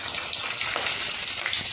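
Fish fries in a pan with a dense, continuous sizzle and faint crackling pops, close and steady, with no talk.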